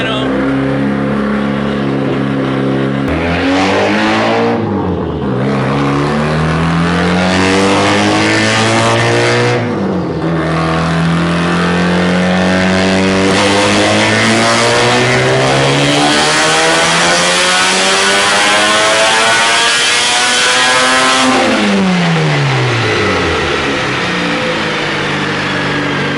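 A rotary engine car roars through a dyno pull, its loud buzzing note sweeping up through the revs in several rising runs, dipping between shifts and climbing to a high wail, with voices underneath.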